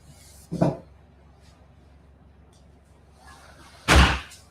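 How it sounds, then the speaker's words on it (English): A door slams shut nearby with a loud, sharp thud, following a fainter bump a few seconds earlier, in an otherwise quiet indoor room at night. "Let me close this door."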